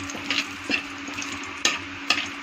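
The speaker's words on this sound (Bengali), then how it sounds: "দুই 3টা কারি পাতা ছেড়ে দিচ্ছি, একটা শুকনো লঙ্কা ছেড়ে দিচ্ছি, একটা তেজপাতা ছেড়ে দিচ্ছি।" Curry leaves, a dried red chilli and a bay leaf frying in hot oil, a soft steady sizzle with a few sharp clicks and taps of a stirring spoon against the pan, close and moderately quiet, no voices.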